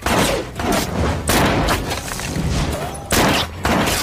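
Rapid, dense gunfire rattles in bursts with booming impacts during a gangster film shootout, loud and chaotic like a cinematic shootout.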